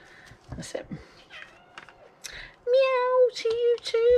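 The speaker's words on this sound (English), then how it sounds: "Meow to you too, Puss Puss." A pet cat gives a series of clear, close meows, loud and drawn out, following some softer talk and handling noise.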